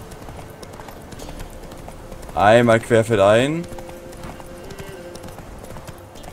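Roach the horse galloping in The Witcher 3, with quick clip-clop hoofbeats running steadily beneath someone speaking German and game ambience.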